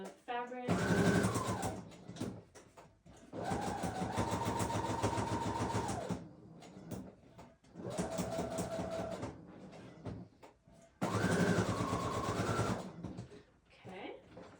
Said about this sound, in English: Now I'm gonna sew around the fabric.